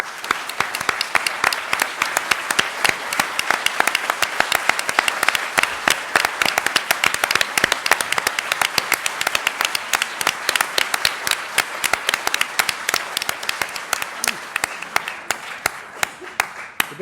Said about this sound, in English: I think all of FDA should applaud them